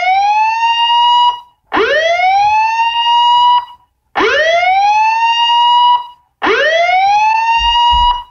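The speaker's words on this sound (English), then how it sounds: "you get a commercial that has a siren in it" Radio commercial audio carrying a wailing siren: four loud rising sweeps, each climbing to a held high tone before cutting off with brief gaps, heard alone with no talking.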